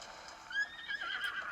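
A horse whinnies in a short, shrill, wavering call, faint and alone, in The Legend of Zelda: Breath of the Wild.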